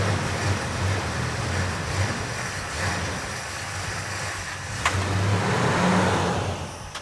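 A 1970 Plymouth Superbird's engine runs steadily with a rough, loud rumble and swelling revs, close by and with no talk over it.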